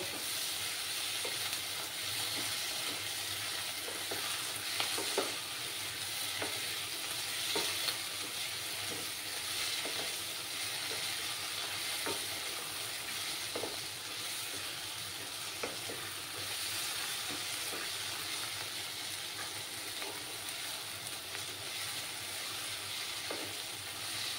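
Ginger-garlic paste for chicken ghee roast fries quietly in a pan with a continuous soft sizzle and hiss. Faint stirring scrapes recur now and then through the long stretch, and no voices are heard.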